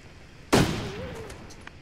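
A single shotgun blast from a video game bursts in loud and close with a sharp onset, then leaves a short, fading tail of rumble and a faint tonal whine.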